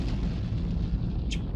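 Explosion from the 1981 film Mad Max 2: The Road Warrior, a sustained low rumbling blast with dense debris roar throughout, fairly loud and continuous, with a brief higher hiss near the end.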